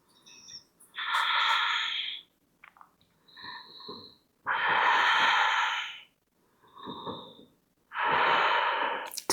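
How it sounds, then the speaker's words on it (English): A yoga student in a shoulderstand and plow flow takes slow, deep breaths, three long airy exhales alternating with quieter inhales, close and clear, with no speech. "Breathe in. Breathe out. Slow down the breath."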